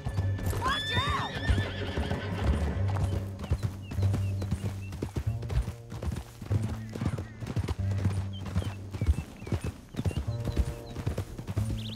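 Horse hooves gallop in the video game Red Dead Redemption 2 in a rapid, steady clip-clop, with a shrill whinny near the start and a constant rumble underneath.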